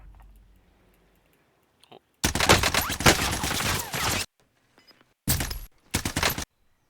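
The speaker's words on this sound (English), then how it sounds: "I hear some gunshots on my right there." Rapid gunfire in a video game, two dense bursts of quick shots, one long and one shorter and broken, loud and close against near silence.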